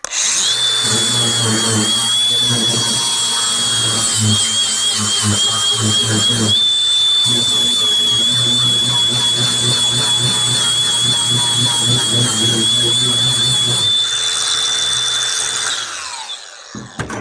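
Grinder working metal on a 1957 Chevy, with a loud, steady high-pitched whine that runs continuously for about sixteen seconds with slight wavers under load, close up, then spins down at the end.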